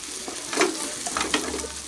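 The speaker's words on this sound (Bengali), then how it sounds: "পেঁয়াজ পেস্টটা আমি 2 মিনিট কষিয়ে নিচ্ছি" Grated onion paste sautéing in a pan for a Bengali-style rajma masala, with a soft, steady sizzle and a few faint stirring scrapes, fairly quiet throughout.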